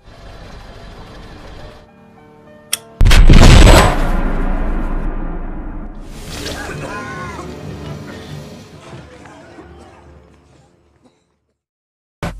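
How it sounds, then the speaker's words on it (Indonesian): A bomb planted in a hotel bed detonates in a scene from the film Munich, a sudden loud blast that follows quieter sound, then a long rumbling decay with debris and scattered noise fading out. "bom tersebut meledak dengan sangat kuat hingga nyaris menewaskan Hafner dan beberapa warga sipil di hotel tersebut"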